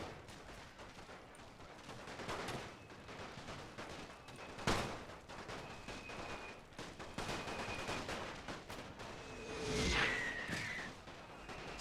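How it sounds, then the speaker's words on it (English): Artillery and rifle fire in a World War One Russia versus Ottomans battle in the Total War WW1 mod, a steady crackle of distant shots with occasional heavier booms and a whooshing burst near the end. "Still trying to fire with my artillery."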